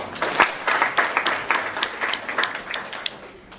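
Audience applause at a live-streamed event fills the room with steady, dense clapping that swells and holds throughout, no voices on top.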